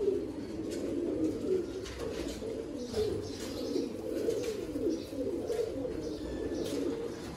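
Pigeons coo steadily in a low, throaty murmur, several birds overlapping continuously, with faint chirps above.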